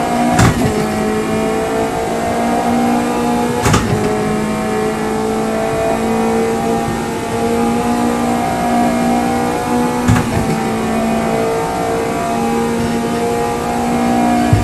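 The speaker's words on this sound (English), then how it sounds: "Not too much rev, you see, not wanting to wheel spin it." A race car engine holds steady, restrained revs through a final lap, with sharp gear-change bursts at intervals and a continuous loud, close drone throughout.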